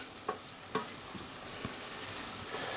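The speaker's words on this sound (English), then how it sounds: "I'm putting in 6 button mushrooms which I have finely chopped up, and stir those through for a minute or two" A utensil stirs six finely chopped button mushrooms in a pot, giving a few distinct scraping knocks against the metal spaced over a quiet, faintly hissing background; no one speaks.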